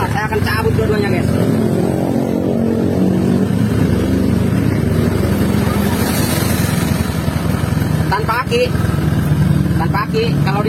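Honda Vario 150 scooter engine running steadily with a close, continuous hum during a battery-drain repair, while someone talks over it.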